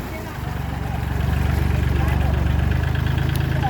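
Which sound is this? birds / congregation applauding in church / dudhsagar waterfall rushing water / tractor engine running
tractor engine running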